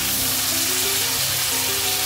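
Tomatoes go into a pan of frying masala, setting off a dense, continuous sizzle that stays loud and close throughout.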